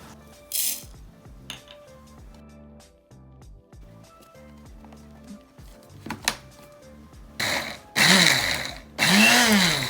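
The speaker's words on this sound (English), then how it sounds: "We will be blending these together in the blender." Kitchen clatter and clinks of utensils, then two loud bursts of a blender whirring spices and garlic near the end, each lasting about a second or more.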